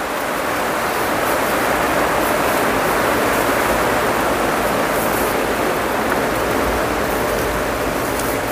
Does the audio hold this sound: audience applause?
no